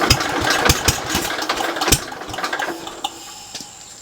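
A rare 1970s tractor engine runs with sharp, uneven knocking pops and a rough mid-pitched chatter, loud and close, the firing growing sparser toward the end.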